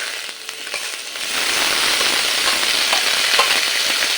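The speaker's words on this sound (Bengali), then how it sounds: "এইভাবে ডুমুর আর আলুটা একটু নেড়ে নিয়ে" Figs and potatoes stirred in a frying pan, a steady close sizzle that swells and thickens after the first second, with faint scraping from the stirring.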